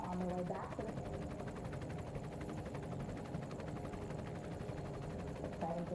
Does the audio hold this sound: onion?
no